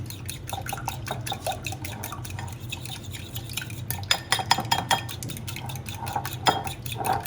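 Eggs being beaten with salt in a bowl for a Spanish omelette: a steady run of quick clinks and taps of a utensil against the bowl, close up, with light wet stirring sounds and no talk.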